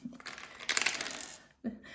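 Six-sided dice roll and clatter on a hard surface in a quick burst of rattling clicks, then settle, with a second short knock at the end, close and without talk.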